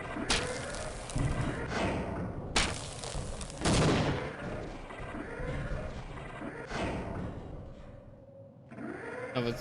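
Gunfire in the video game Half-Life crackles in several bursts of rapid shots, loud and close against a busy game soundscape, with no talking.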